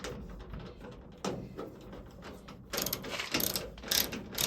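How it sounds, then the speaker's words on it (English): Fasteners are tightened on a tool cabinet with a ratchet, giving close, quiet bursts of rapid clicking separated by short pauses. "So, as we tighten them, we're going to tighten this one first."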